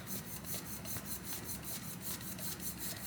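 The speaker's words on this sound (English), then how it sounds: "So you just put a strip of ink and just scrub it" Ink is scrubbed back and forth across a wooden surface in quick, even rhythmic strokes, a faint close rubbing rasp with no talking.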